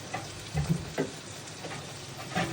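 Prawn malai curry is stirred in a frying pan, with a soft, continuous sizzle under a few quick scraping stirs and light knocks of the spoon, heard close.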